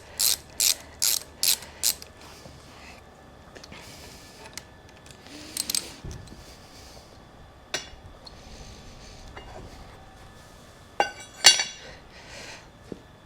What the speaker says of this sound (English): we'll just remove this grip using an 8mm socket